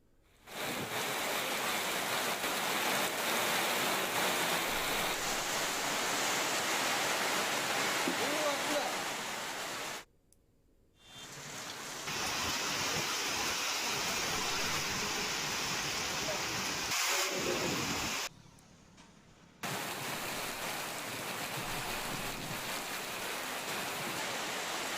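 Heavy rain in Srikakulam, Andhra Pradesh, pours down as a dense, steady hiss that breaks off twice into near silence before resuming at full strength.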